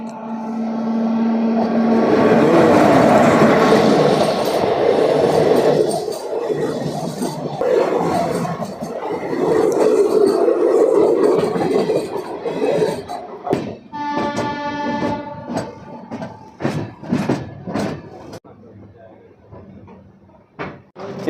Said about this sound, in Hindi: अभी सामने से निकल रही है 12/333 हावड़ा